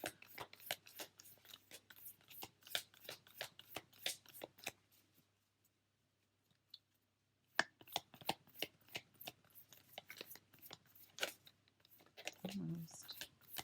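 Tarot cards shuffled in quick, crisp riffling bursts close up, with a short quiet pause midway before the shuffling resumes.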